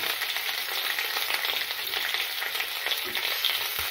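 Garlic, onion, green chili and curry leaves fry in oil with a constant, fairly soft crackling sizzle and occasional faint stirring. No one speaks.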